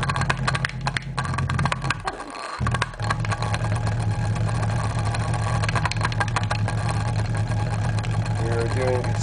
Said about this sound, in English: We just invented the world's, possibly the world's simplest motor. An acoustically powered motor.